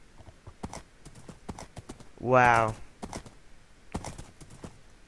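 Horse hooves clip-clop in the SurvivalCraft video game, a quick run of hoofbeats mixed with a player's chatter and exclamations, while a loud harmonic burst of sound rises briefly in the middle.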